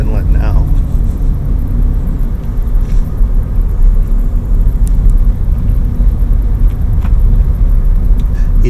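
Interior road noise from a Scion FR-S cruising along A1A through Ponce Inlet near Daytona Beach, a steady low rumble and tyre whir with engine drone, continuous and fairly loud throughout.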